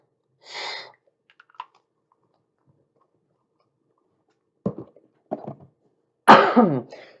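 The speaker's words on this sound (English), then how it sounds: "I know I keep hacking and coughing and wheezing on you" A man's repeated hacking coughs and throat clearing in a quiet room, with a short burst near the start, a couple of small rasping catches later, then a loud harsh cough with a wheezy tail.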